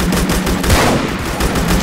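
Sniper towers in a Roblox tower defense game fire in a dense, loud burst of rapid gunfire that runs almost continuously for about two seconds.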